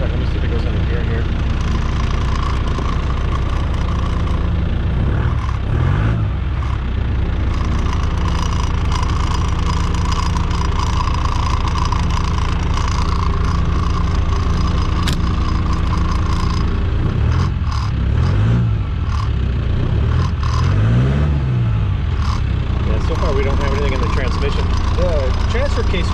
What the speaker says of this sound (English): Let me see if it goes under gear here.